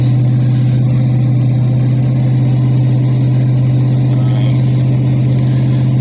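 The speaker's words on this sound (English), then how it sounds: "I'll show you how the truck performs taking off, you know, from a dig." A 2009 Chevrolet 2500HD pickup with a 6.0 gas engine, towing 5,000 lbs, drones steadily from inside the cab as a constant low hum under someone talking.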